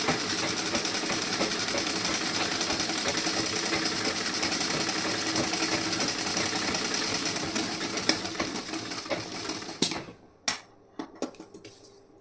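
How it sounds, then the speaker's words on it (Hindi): Sewing machine stitching fabric for a blouse sleeve and back panel, running as a steady, loud mechanical whir for about ten seconds, then stopping into a few sharp clicks and handling knocks. "सीधा करके उसके बाद स्टिचिंग करेंगे"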